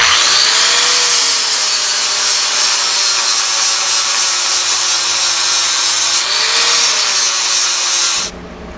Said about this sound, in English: I'm going to get this all ground down one last time